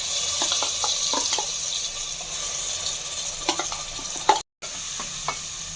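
Ground masala goes into a pan for ladyfinger sambar, a continuous sizzle with repeated scraping stirs and light clinks, then a brief cut to silence before the frying resumes. No speech is heard.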